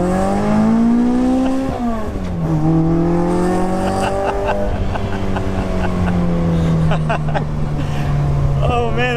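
Toyota AE86 with a high-revving 1.7L engine, revving loud and close with rising and falling harmonic engine tones, climbing to a strong high-RPM wail near the end; a voice speaks over it.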